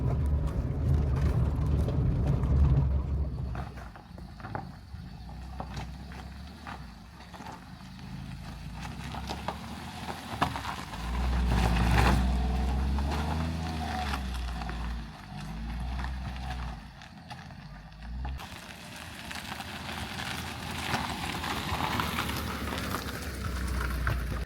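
A car jolts along a rough, potholed hill road in a steady low rumble with scattered knocks and rattles, loud and close from inside the vehicle, with no talk.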